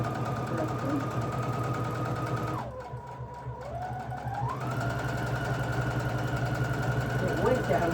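A sewing machine stitching patchwork squares together runs with a steady whirring hum, slows and drops in pitch midway, then speeds back up. A person talks over it.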